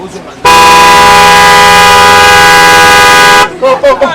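A car horn blares in one long, loud, steady blast for about three seconds. Voices talk briefly before it and again right after.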